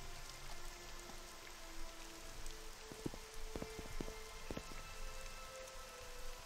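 Steady rain pours down in the Ashlands of Morrowind, a dense, even hiss broken by a few sharper drops and low thuds, close and continuous with no voices.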